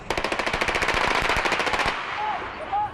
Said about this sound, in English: He eventually exchanged gunfire with police and was shot dead